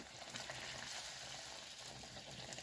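Spinach puri frying in oil heated on high, a dense, continuous crackling sizzle with faint stirring, close and steady throughout.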